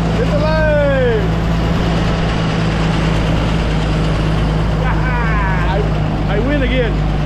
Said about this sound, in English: I'm glad we got that combine running again